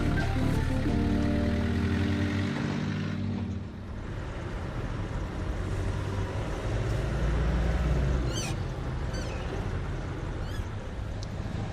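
A car engine running on used frying oil purrs steadily through Berlin streets, a low, even hum heard close, with a brief dip in level and a few faint squeaks over the traffic.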